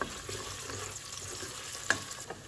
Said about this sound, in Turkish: Havuçları da biraz kavuracağım.